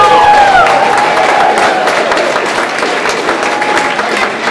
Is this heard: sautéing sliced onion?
no